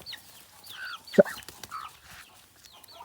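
A chicken clucking near a pigeon feeding area, with short clucks and chirps scattered over a few seconds and one sharp close knock in the middle.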